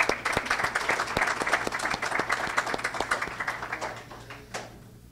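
An audience applauds at a letter-of-intent signing ceremony, with dense, sustained clapping from a sizeable crowd that thins out and fades near the end.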